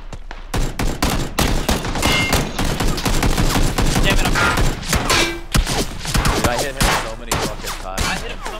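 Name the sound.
gunfire in video game PlayerUnknown's Battlegrounds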